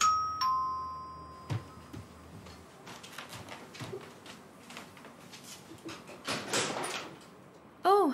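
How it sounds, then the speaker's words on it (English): A door is answered in a home, with a quick knock or latch click, a chime-like tone at the start and a few clicks and shuffles, followed by a brief rising tonal sound at the end, with faint household noise in the background. "I'll get the door."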